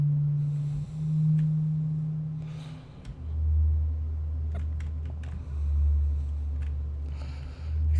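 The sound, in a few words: sine wave tone from modular synth in Unreal Engine Metasounds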